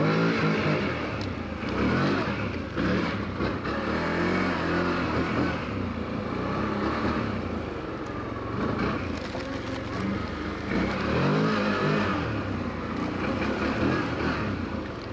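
2024 CF Moto Cforce 1000 Touring G3 ATV engine on a test ride over rough ground, a continuous loud drone with surges of revving and rumble, close to the rider.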